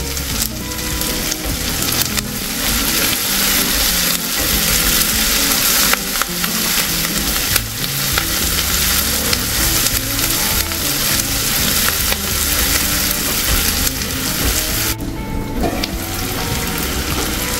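Curry leaves frying in hot oil in a pan, giving a loud, dense, continuous sizzle and crackle that holds steady throughout with no talk.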